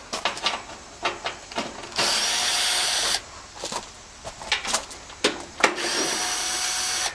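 A Makita cordless drill spins in short bursts, with close whirring runs of about a second and clicks and handling noises between them, no talk.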